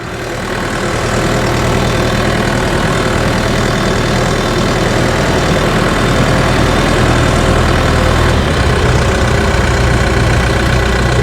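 A loud, steady diesel rumble of a small New Holland tractor engine idling close by, continuous with no voices.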